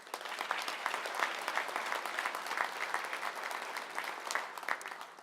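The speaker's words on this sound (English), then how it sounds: "Let's give them all another round of applause" Audience applause at the 2018 Young Retailer of the Year awards ceremony, sustained clapping from a crowd at moderate distance, steady throughout with no voices.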